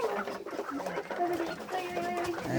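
Pigeons coo inside a cage kept alongside quail, soft overlapping burbling calls repeating close by without pause and with no talking.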